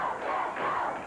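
A wrestling arena crowd roars in a broad, sustained wash of cheering voices, heard briefly at moderate distance.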